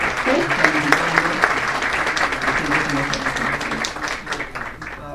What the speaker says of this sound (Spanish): Un aplauso por favor para ellas que están visitando